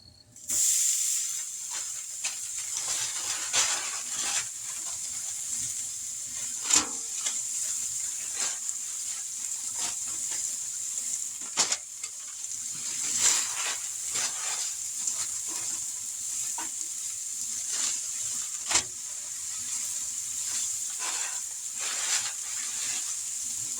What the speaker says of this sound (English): Now we're going to go ahead and put these burgers on here.